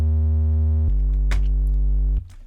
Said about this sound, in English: go to the sub, pitch it down by 2 octaves and select a triangle.